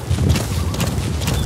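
A horse's hooves clip-clop in quick, close steps in the video game Metal Gear Solid V, loud and alone without talk.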